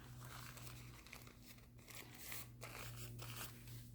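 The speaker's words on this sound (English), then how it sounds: "I fold it in fourths" Coffee filter paper being folded into fourths for craft flowers, giving steady close crinkling and soft crumpling rustles with a few sharper crackles throughout.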